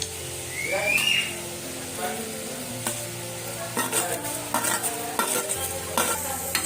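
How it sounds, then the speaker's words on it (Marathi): Dry-roasting spices and coriander seeds in a pan, with onion roasting, for a village-style black mutton dish: a steady sizzle with scraping stir strokes and occasional clinks, a brief whistle-like tone early on, and background voices. "हे सर्व भाजून घ्यायचं त्यात धणे टाकायचे"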